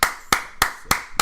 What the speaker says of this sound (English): let's give that a nice applause up in here